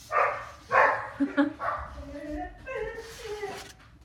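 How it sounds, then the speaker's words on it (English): Dogs give a quick run of close, fairly loud barks and yips mixed with whimpering. "that's just our dogs barking"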